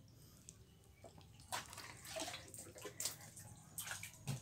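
Water splashing and trickling during a young child's bath, soft irregular splashes and drips that grow busier midway, close but quiet with no voices.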